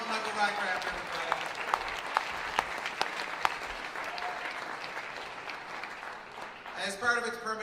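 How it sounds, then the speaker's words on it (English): Sustained audience applause at a folk music awards ceremony, steady dense clapping with a few sharper claps standing out, fading toward the end as a voice begins speaking over it. "Another round of applause for Michael Rycraft, everybody."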